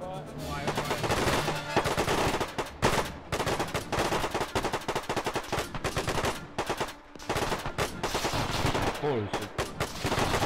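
Dense, continuous gunfire from a World War II video game battle, with rapid machine-gun bursts and rifle shots crackling loudly almost without pause, briefly thinning in places.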